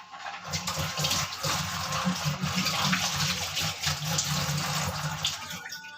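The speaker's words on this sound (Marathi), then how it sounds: "तर मी हात धुतो, थोडे घाण झाले।" A hand being washed under a running tap, with water gushing steadily and splashing into a basin at close range for several seconds, fairly loud throughout.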